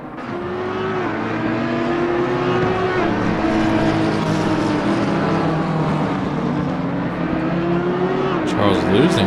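GT3 race cars leave the pits at Kyalami in Assetto Corsa Competizione, a loud sustained engine whine with rising and falling pitch over steady road noise, with a voice talking over it.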